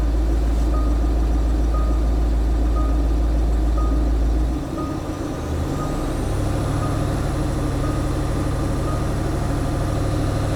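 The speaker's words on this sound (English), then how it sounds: "I'll just take the revs up a little bit and just build up a bit of" A Range Rover L322 with a 3.6 TDV8 diesel engine idles steadily, then its revs rise to a higher, even drone that holds for several seconds, close and continuous with no talking.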